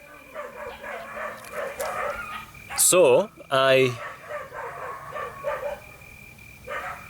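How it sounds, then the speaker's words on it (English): Rescue dogs let out a short burst of high, rising yelps and barks in the middle, loud and close, surrounded by a person talking. "Some of my rescue dogs have just come down to see me."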